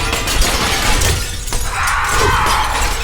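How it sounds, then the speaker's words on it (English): Windows bursting inward in a shower of glass, a loud, dense crash of shattering that rolls on for about three seconds as a harsh continuous burst of breaking shards with no voices. "The windows burst inward in a shower of glass"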